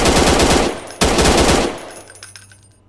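Two bursts of rapid automatic gunfire in the PC game Martial Law, loud and close, the second cut off by a sharp blast, followed by a fading tail of echoes and distant pops.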